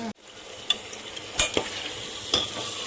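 Papu charu, a Telangana-style lentil stew with fenugreek powder and asafoetida just added, being stirred in a pot over quiet background sizzling, with a few sharp scraping clinks of the spoon.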